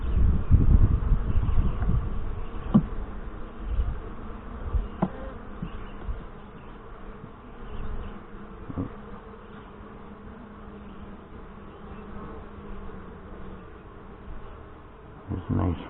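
Honey bees hum in a steady low drone around an open Saskatraz hive during a summer inspection, with a few soft clicks and rustles from frames being handled close by.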